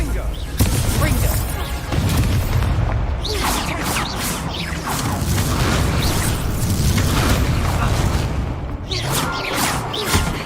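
Explosive Confringo spell blasts from the Hogwarts Legacy video game, a rapid string of loud booming bursts and crashes filling the whole stretch, with a voice calling out over the din.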